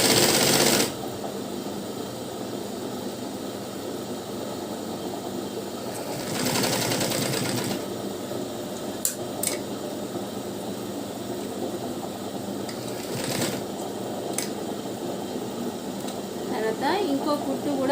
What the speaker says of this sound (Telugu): దీన్ని కూడా డబుల్ ఫోల్డింగ్ ఇలా చేసుకొని ఇప్పుడు ఈ చివరికి కుట్టు వేసుకోవాలి